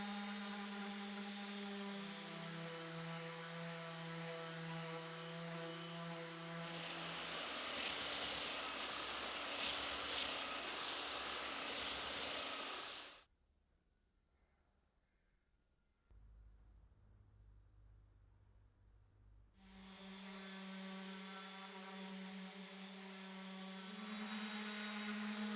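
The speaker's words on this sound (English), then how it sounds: "The epoxy is set, so now I can get started on the sanding." Power sanding of a cured epoxy resin coffee table top with kumiko inlay, a loud steady whining drone that shifts in pitch, cuts off for a few seconds, then starts up again.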